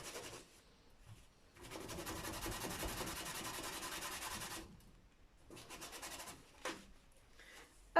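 A small brush rubs in quiet, scratchy bursts while cleaning around a handmade paper butterfly decorative wreath, with short pauses between strokes and no speech.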